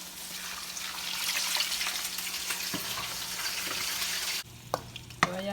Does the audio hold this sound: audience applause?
no